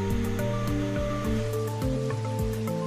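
A HYLA air and room cleaning system runs in air wash mode, giving off a steady, close, watery churning hum with a tonal motor drone and faint rhythmic pulsing throughout.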